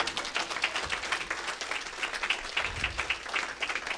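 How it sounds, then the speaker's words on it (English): A church congregation claps for Jesus during a Sunday service, brisk crowd applause with a steady, slightly rhythmic patter of many hands, moderately loud and unbroken for the whole span. "Clap for Jesus"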